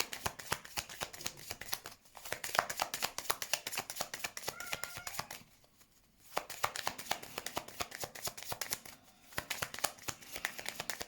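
Oracle cards shuffled by hand, a dense run of rapid riffling flutters with two brief pauses near two and six seconds, close and fairly quiet with no talking.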